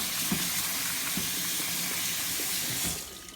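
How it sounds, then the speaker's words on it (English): Soaked almonds are rinsed under running water in a sieve, with a steady, loud splashing stream close by that continues throughout and tapers slightly at the end. "once they are in the sieve, we're going to give them a good rinse"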